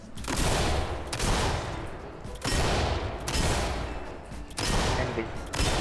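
Sustained gunfire in the tactical shooter Ready or Not, loud bursts of automatic fire repeating in roughly one-second waves with brief dips between, close and dominant throughout.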